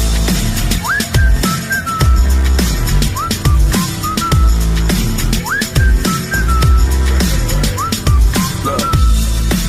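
A melodic whistled tune in a song rises and slides in repeated short phrases over a thumping, steady beat, loud and prominent throughout.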